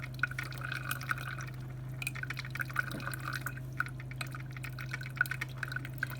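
A Black+Decker CM618 single-serve coffeemaker brews with a steady electrical hum, trickling and dripping liquid, and faint gurgles throughout.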